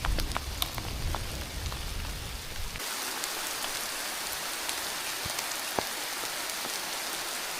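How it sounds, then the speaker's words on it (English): Hail and rain fall outdoors in a mountain storm, with heavy drumming and sharp pelting impacts at first, then steady lighter patter with scattered louder hits, close and constant. "there's hail coming down now"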